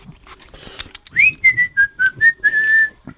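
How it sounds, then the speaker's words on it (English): Someone whistles a short run of clear, wavering notes, close up, after some faint rustling and mouth noises. "Now you can whistle to your heart's content."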